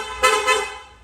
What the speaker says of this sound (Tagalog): Rapid horn.